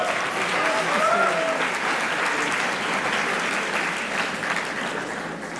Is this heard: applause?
yes